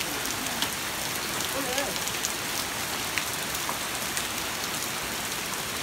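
Large hail falls outdoors, a dense, steady patter of many hits with scattered sharper impacts, and a person speaks briefly over it.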